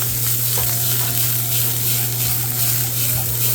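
Steak searing in a hot pan beside cooking vegetables for chicken fried rice, giving a loud, dense, continuous sizzle that stays steady throughout, close up, with no talk.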